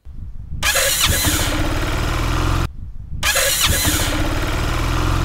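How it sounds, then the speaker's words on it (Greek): A Sym Cruisym 300 scooter starting from cold, its starter motor giving a loud whining squeal as the engine cranks and catches, heard twice in a row, close up with no talking. "Αυτός ο ήχος ακούγεται μόνο όταν το βάζω μπροστά και είναι κρύο."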